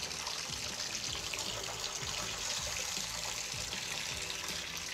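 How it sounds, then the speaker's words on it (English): A Delta T17 Series faucet turned fully on sends a steady, even rush of running water, continuous and close, with no voices over it. "We're gonna turn the water all the way on."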